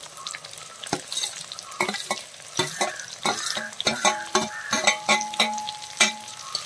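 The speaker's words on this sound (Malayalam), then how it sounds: "ഇനി ഇത് നന്നായിട്ടൊന്ന് വഴറ്റിയെടുക്കാം" Chopped onions sautéing in a pan for a fish-head curry, with repeated scraping and clinking of a spoon as they are stirred over a soft sizzle, close up and with no voices.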